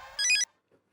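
A telephone rings with a short, bright electronic ringtone in a comic household scene from the sitcom Taarak Mehta Ka Ooltah Chashmah. It plays as one brief, clear burst, then quiet follows.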